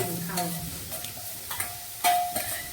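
Chopped onions hit a hot pan and are stirred in a home kitchen, giving a soft sizzle under repeated scraping and clinking of a spoon against the pan, with people talking at moments.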